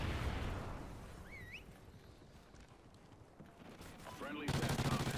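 Gunfire rattles through a Call of Duty match on PC, with bursts near the start and again near the end over a busy game soundscape.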